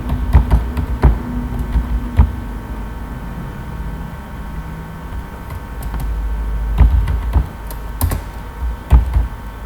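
Typing on a computer keyboard while entering a label, heard as clusters of close, clicky keystrokes in irregular bursts with short pauses and no talk.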